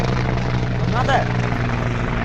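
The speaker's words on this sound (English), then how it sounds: "you can see here again one helicopter is coming there." Helicopter flying overhead near a potato field in Manipur, its continuous rotor and engine drone steady and fairly loud, with a short burst of voice in the middle.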